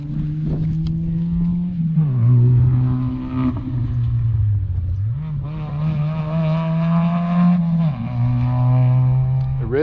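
A racing micro car passes along a beach road during the Raad Ny Foillan 2023 walk, its high, buzzing engine note rising and dipping steadily and loudly throughout, with no talk.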